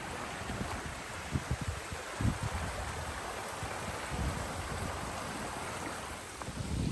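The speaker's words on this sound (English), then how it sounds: "this is the creek that we crossed earlier coming into Campground" A creek flows through a state park campground, a steady broadband rush of running water with small splashes, close and continuous, with no voices.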